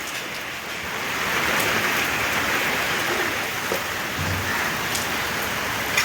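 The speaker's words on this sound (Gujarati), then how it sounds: "વરસાદ ચાલુ થઈ ગયો" Steady rain falls with a broad, constant hiss of drops striking surfaces, unbroken and even throughout.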